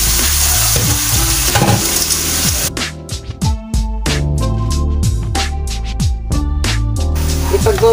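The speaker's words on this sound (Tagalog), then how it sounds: "Tapos igisa lang po natin siya." Beef sizzles loudly as it is sautéed in a hot pan for beef broccoli with cabbage, a steady frying hiss giving way to a rapid series of stirring and scraping strikes against the pan.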